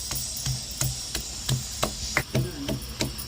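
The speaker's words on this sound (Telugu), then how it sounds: "ఊరగాయలకి తెల్లగడ్డలు అయితే దంచుకుందాం" Garlic cloves are pounded for gongura pickle, giving about eight sharp, evenly spaced thuds close by, each a short dull knock with slight ringing, and no speech.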